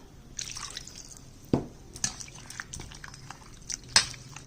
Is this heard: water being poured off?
yes